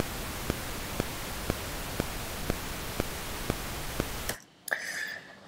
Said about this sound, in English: we now heard both pink noise and click fairly equally loud.